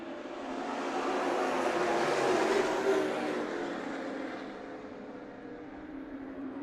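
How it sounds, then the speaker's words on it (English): Spears Manufacturing Modified race cars at Tucson Speedway roar past during a restart, engine noise swelling to a peak and then fading into the distance, with no voices over it. "the Spears Manufacturing Modifieds get ready to complete their race. We're only 6 laps in, so these drivers have to find a way to settle as we go green."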